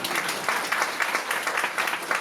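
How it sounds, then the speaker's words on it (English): Steady applause from an audience fills the space, dense overlapping claps at a constant level with no voices over it. "Applaud."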